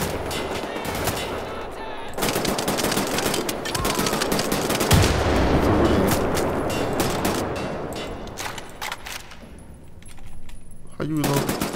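Sustained automatic gunfire and metallic clatter in the shooter Wolfenstein: The New Order, loud and dense through the middle, easing toward the end with a final burst, with a voice faintly present underneath.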